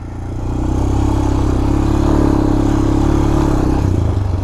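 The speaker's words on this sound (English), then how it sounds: "I'm going to crawl over these dirt piles with no clutch. I don't even have the clutch on now, and it's in gear." A 2024 Honda TRX250x ATV with a sport clutch crawls over dirt piles in gear, its engine a loud, close, steady low chugging drone that rises slightly and holds, with no talking over it.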